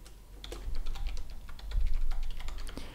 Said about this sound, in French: on va taper ici donc le même nom que le dossier